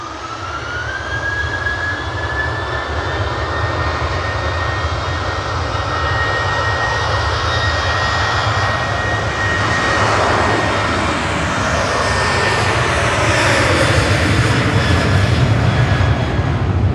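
Aircraft G-LMTF, arriving at Manchester on a flight from the Isle of Man, passes with a loud jet engine roar and a rising then falling whine, building steadily over the span.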